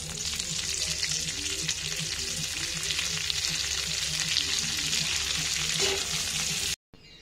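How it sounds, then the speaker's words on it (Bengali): Egg-battered chicken pieces deep frying one by one in hot oil, a loud, dense, unbroken bubbling sizzle heard close, with faint background hum, ending abruptly in near silence. "তেল গরম হলে পরে তেলের মধ্যে একটা একটা পিস এরকম সাজিয়ে নিয়ে ভেজে নিতে হবে।"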